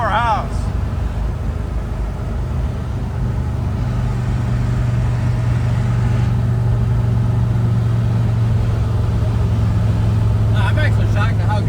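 A 1963 Corvette barn find, back on the road after sitting since 1991 with a replacement motor, drives along with a steady mid-pitched engine drone and road rumble heard from inside, holding a constant note throughout.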